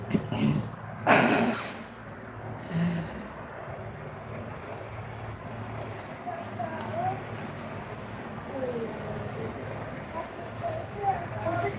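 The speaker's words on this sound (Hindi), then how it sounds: "मुझे खांसी बहुत आ रही है।" A woman's single sharp cough rings out near the start, followed by a quieter throaty sound, over a steady low background rumble.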